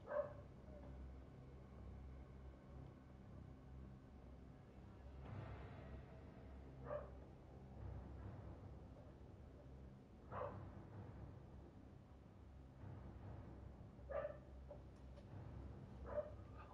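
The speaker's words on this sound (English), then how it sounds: "dog was barking" A dog barks in short, scattered bursts at someone walking by, moderately close, over a steady low background hum. No one speaks.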